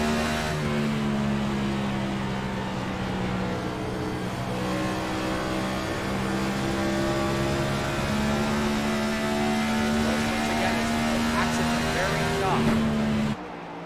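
Race car engine in the iRacing video game, an onboard drone with steady tonal harmonics held through a corner exit as the throttle is feathered, continuous and close, with commentary talking over it.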